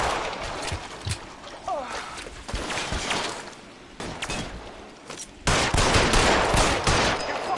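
Gunfire in L.A. Noire's final shootout sounds as scattered shots amid noisy game ambience, building to a loud, sustained burst of fire near the end, with someone talking over it.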